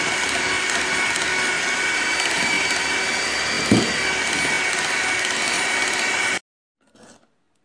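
An electric mixer beats egg yolks, sugar and oil in a bowl, giving a steady, loud, close whir for about six seconds before cutting off abruptly, followed by a brief faint clatter.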